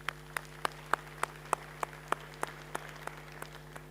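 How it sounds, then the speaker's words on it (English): Sparse, evenly spaced claps ring out at a conference, roughly a dozen distinct, fairly close hand claps in a slow steady rhythm over a constant background hum, with no voices. "let's give them a round of applause"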